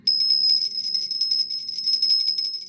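A small handheld bell from India rings in quick repeated strikes, its bright, high metallic tone shimmering and sustaining throughout with no pauses, loud and close.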